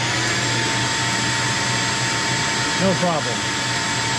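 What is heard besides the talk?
heavy duty shop vac running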